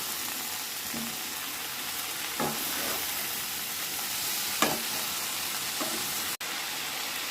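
Malabar spinach and pumpkin greens sizzle steadily in a hot pan, with occasional stirring scrapes and soft clatter over the constant frying hiss.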